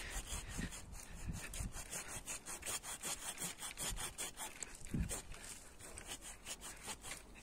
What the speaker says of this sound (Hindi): तो हम इसमें पहले थोड़ा सा कट यहाँ से लगा देंगे इस तरह से आरी से